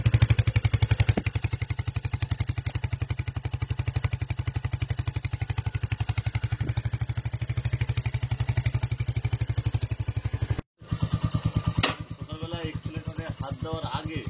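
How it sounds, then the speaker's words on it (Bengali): A Royal Enfield Hunter 350 motorcycle idles close by after starting, its single-cylinder engine thumping in a fast, steady rhythm. The sound cuts out briefly, then the engine keeps running with a slightly changed beat. "গাড়ি স্টার্ট করার পরে সাইরেন আওয়াজটা কিছুটা এরকম মনে হয়।"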